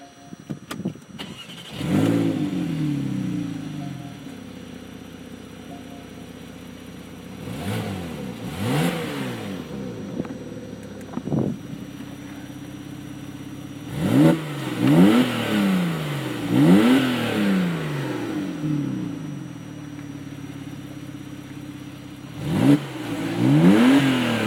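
A 2017 Porsche 911 Targa 4 GTS with an automatic gearbox fires up with a sharp starter burst, settles to a steady idle, then gets blipped repeatedly in loud, close throttle sweeps that rise and fall in clusters.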